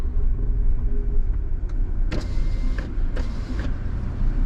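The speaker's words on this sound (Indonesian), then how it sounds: "buka kaca mobil" Inside a car driving in Batam, an electric window whirs open in short motor bursts over the steady low rumble of the engine and road noise.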